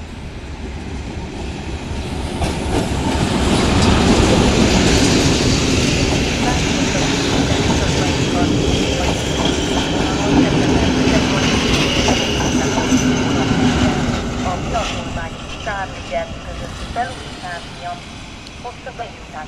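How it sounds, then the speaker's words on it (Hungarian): An S10 passenger train departs Komárom station, its wheels clattering and rumbling steadily as it builds, with squeals and clicks as the cars pass near, under a station announcement voice. "A Budapest déli pályaudvarra közlekedő S10-es személyvonat a 4. vágányról azonnal indul."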